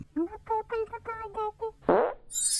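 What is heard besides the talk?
fart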